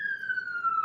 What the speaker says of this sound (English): who's that? Police? Sorry for the sirens.